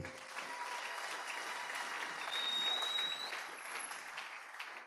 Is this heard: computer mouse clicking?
no